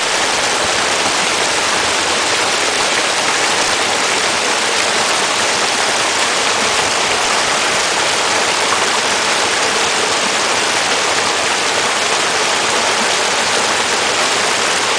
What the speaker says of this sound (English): I hope you enjoy the pretty creek.